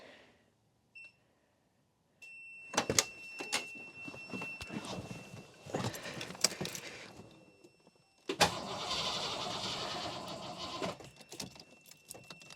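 A car engine cranks over several times, jump-started from its own dead battery using an Autowit Supercap 2, with bursts of starter grinding separated by short pauses and a sustained crank near the end; no talking.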